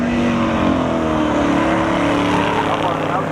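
Drag race cars launch off the start line at a spectator drag finale, loud engines revving and accelerating away as their pitch climbs, with a commentator talking over them.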